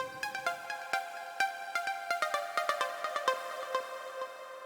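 A bright high-passed synth note repeats with a one-beat delay echo, plucky hits ringing in a steady rhythm with tails filling the gaps, clear and alone.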